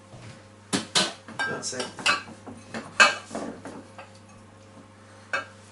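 A metal spoon clinks and scrapes against a dish while scooping chicken pie filling, with a series of irregular clatters spread over a few seconds and a brief spoken remark.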